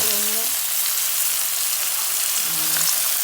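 Vegetables fry in a hot pan for a quick stir fry, giving a steady, loud, close sizzle, with faint tones partly under the frying.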